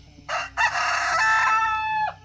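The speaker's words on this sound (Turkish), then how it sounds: "Baba bak horozlar kapışıyor" A rooster crows loudly and close by, one long drawn-out call amid roosters fighting in a village, with no talking and a faint low background hum.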